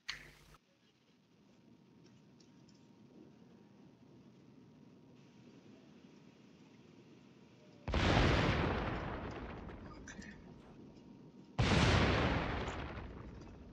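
Warship main-battery gunfire in the naval game World of Warships: two heavy, booming salvos a few seconds apart, each a loud blast with a long rumbling decay, over a quiet low engine drone.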